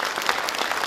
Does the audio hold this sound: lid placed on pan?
no